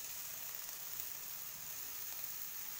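Spinach frying in a pan with green peas and roasted spices for a mixed vegetable nimona, giving a steady, even sizzle throughout with no talk.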